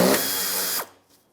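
A power tool drives out a 10mm bolt on the rear bumper of a 1996-2002 Toyota 4Runner, a loud, close whirring burst that runs under a second, then cuts off into near silence.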